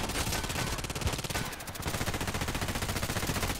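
Rapid gunfire in a sniper video game, a continuous dense burst of shots repeating quickly and loudly, with a short dip before the firing resumes at full intensity.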